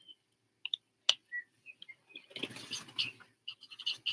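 Soft birdsong from a recording playing indoors: scattered chirps and short whistled calls, then a busier stretch of twittering over a faint background rustle.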